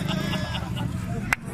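A goat bleats several times in short, wavering calls, close and fairly loud, with a sharp knock near the end and voices in the background.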